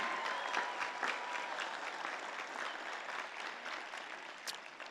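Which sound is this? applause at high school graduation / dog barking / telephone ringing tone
applause at high school graduation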